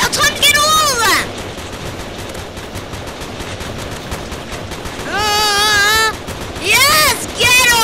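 Rapid bursts of gunfire in the War Simulator video game, loud and dense throughout, with sharp tonal sweeps breaking through in several places.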